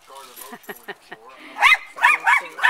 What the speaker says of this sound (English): The dogs are like going ballistic